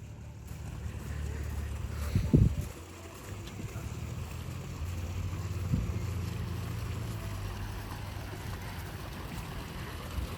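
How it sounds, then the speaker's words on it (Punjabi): A solar-powered water pump motor runs on a farm, giving a steady, continuous low hum with wind rumble across the microphone and a couple of brief louder bumps. "ਹੁਣ ਇੱਥੋਂ ਲਾ ਕੇ ਸੋਲਰ ਵਾਲੀ ਮੋਟਰ ਲਾ ਕੇ ਦੂਜੀ ਮੋਟਰ ਲਾਈ ਆ ਸ਼ਿਵਾ"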